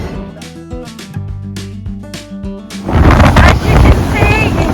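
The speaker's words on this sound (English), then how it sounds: "Very windy out here." Music gives way to loud, blustery sea wind buffeting the microphone on the deck of the P&O Ventura cruise ship, with a roaring, rushing noise that swells and stays strong.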